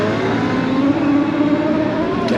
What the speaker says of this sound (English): See, we got a gas moped here in front of us.